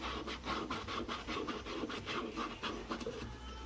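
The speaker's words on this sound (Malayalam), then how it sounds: "എന്നിട്ട് നമുക്ക് ഇങ്ങനെ ഒന്ന് റബ്ബ് ചെയ്ത് കൊടുക്കാം." Cotton cloth rubbed by hand against the inside of an LG front-load washing machine drum while cleaning it, giving a steady rhythmic scrubbing and rasping with repeated strokes, close and fairly quiet with no talking.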